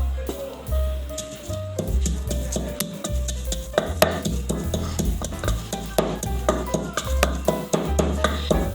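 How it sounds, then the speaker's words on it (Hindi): Whole coriander and fennel seeds are coarsely pounded in a mortar and pestle, giving repeated dull, uneven thuds and gritty scraping close by, with no talk. "यहाँ पे हमने साबुत धनिया और सौंफ को दरदरा सा कूट लेंगे इमाम दस्ते में।"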